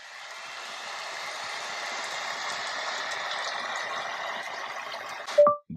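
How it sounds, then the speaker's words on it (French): A river flowing as a nature soundscape played from a Google Home smart speaker: a steady broadband rush of water that continues evenly, then cuts off with a short electronic tone at the end. "C'est le bruit d'une rivière."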